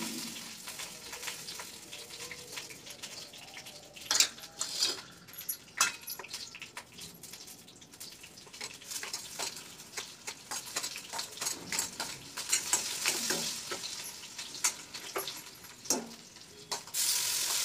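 Cumin seeds and green chilies fry in a little hot oil for a fasting-day dish, a steady close sizzle broken by frequent sharp clinks and scrapes of a spoon stirring against the pan, with no one speaking.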